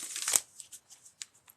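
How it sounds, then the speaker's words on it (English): Starseed Oracle cards riffle in a quick shuffle, a brief crisp burst of flicking card edges followed by several light separate taps and slides, close and fairly quiet with no voice. "I've just been shuffling the Starseed Oracle"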